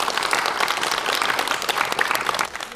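A crowd applauds a young chess player at a children's chess event. The clapping is steady and dense from start to end, then eases slightly near the close.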